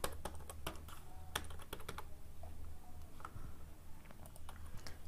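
Close, quiet keyboard clatter as a PAN number is typed a second time for confirmation on a computer during online income tax payment, rapid uneven keystrokes over a faint low hum.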